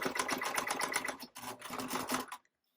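A sewing machine back stitches a tote bag seam in two quick bursts of close, rapid mechanical chatter split by a brief pause, then stops abruptly into silence.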